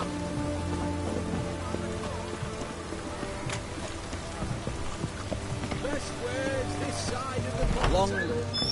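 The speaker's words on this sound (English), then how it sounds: "It's raining, of course it's going to be damp." Rain patters steadily on surfaces in The Witcher 3: Wild Hunt, a continuous hiss running throughout, with a voice talking over it and scattered clopping and ambient game sounds.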